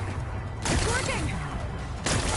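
A power cell explodes in Horizon Forbidden West, two sudden broadband blasts about a second and a half apart over busy game noise, with faint voice-like sounds between.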